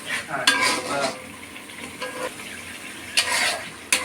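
Beef masala being sautéed and stirred in a pan for a beef and potato curry: a low continuous sizzle with a few distinct scraping stirs of a spoon against the pan, close by with no talk.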